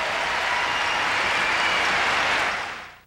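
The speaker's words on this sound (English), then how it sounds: "this crowd giving her a healthy round of applause" A figure skating crowd in a Munich arena at the 1991 World Championships applauds Midori Ito, a dense, loud wash of clapping that holds steady before fading at the end.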